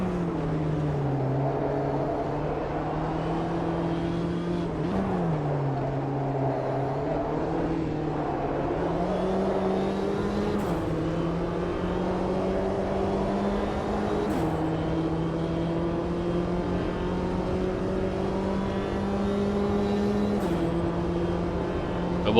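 JCW Mini Cooper race cars at the Catalunya circuit in the racing game Automobilista 2, a steady loud engine drone that rises and falls with shifts and throttle, continuous with no talking.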